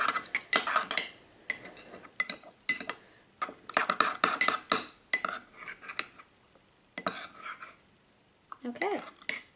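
Paint being mixed into slime in a bowl from a science party slime kit: irregular bursts of scraping and clinking from the utensil against the bowl, close and fairly quiet, with pauses between strokes.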